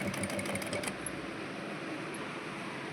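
A sewing machine stitches through fabric with a steady, close mechanical whir and a rapid needle patter, running continuously on its own without any talk.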